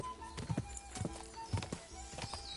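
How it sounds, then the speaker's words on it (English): A horse clip-clops at a slow walking pace in the video game Kingdom Come: Deliverance II, with soft, evenly spaced hoofbeats heard faintly and without speech. "é muito lento mesmo o cavalo"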